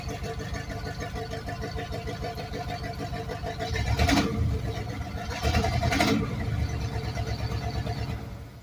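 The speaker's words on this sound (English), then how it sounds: "I'm not even revving it up. Just barely giving it gas." An engine idles steadily with barely any throttle, a low even chugging drone broken by two brief, louder bursts partway through.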